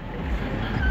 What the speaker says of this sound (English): Car on the road.